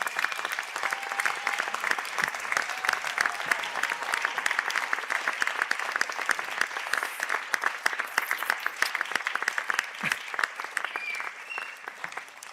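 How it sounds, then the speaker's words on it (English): Graduates at a Sligo conferring ceremony give a long round of applause for their supporters, a hall full of sustained crisp clapping that stays even throughout. "give them a Boulabos, a round of applause as a little thank you for all their support"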